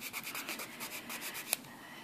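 Natural acrylic oval nails being filed along the sides, a soft, rapid rhythmic rasping of repeated short strokes close by, with one brief sharp tick partway through.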